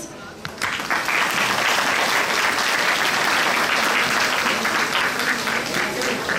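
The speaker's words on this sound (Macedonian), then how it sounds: "Така да, еден голем аплауз." Loud, sustained applause from a crowd at a carnival mask award ceremony, starting abruptly and holding steady throughout.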